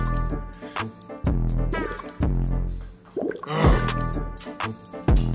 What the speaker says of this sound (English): we're gonna drink the rest of the clam juice because this is delicious shit